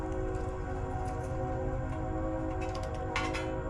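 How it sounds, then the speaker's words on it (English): A train passing in the distance near a workshop, a steady low rumble and tonal hum holding throughout with a brief horn-like burst near the end. "Oh, there's the train."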